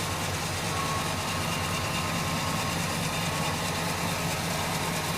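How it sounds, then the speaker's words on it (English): A 1969 Pontiac LeMans engine idles evenly and steadily, a constant low hum with faint mechanical whir, unchanging from start to finish. "Engine idles nice and smooth. No vibration."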